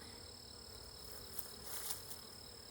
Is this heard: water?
no